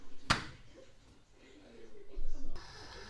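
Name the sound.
chapati being slapped onto the pan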